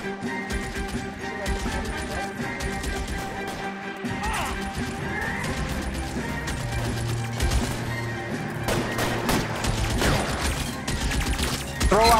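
Dense gunfire in the video game L.A. Noire, with rapid overlapping shots and crashes in a chaotic firefight over a steady background, continuing for the whole stretch.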